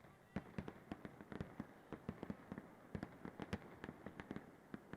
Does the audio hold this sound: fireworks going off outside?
yes